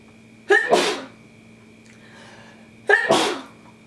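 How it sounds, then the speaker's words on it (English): Two sharp, loud sneezes a couple of seconds apart, each a sudden explosive burst close by, with quiet room tone between. "Oh, I gotta sneeze."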